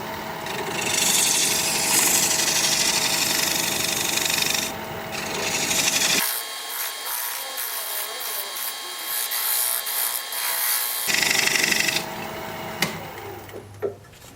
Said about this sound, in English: I'm going to switch to a 3/8 inch gouge for a minute so I can kind of clean up the bottom of this right next to the tenon.